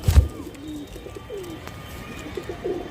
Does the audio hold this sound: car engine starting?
no